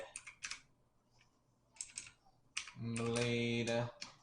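Quick bursts of typing on a computer keyboard, short clusters of crisp key clicks separated by pauses, then a longer tonal hum near the end, close and fairly quiet.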